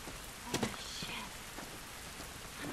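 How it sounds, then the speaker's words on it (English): Steady rain in the video game The Last of Us patters on a surface, with a few sharper drops and faint muffled background sounds. "This rain ain't gonna do us any good."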